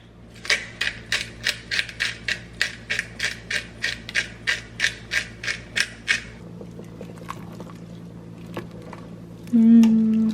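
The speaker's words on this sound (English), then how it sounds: "And some Italian herb grinder." An Italian herb grinder is twisted over a pot of fall dinner ingredients, giving about sixteen quick, evenly spaced ratcheting clicks, close and crisp, before it stops and a low hum remains.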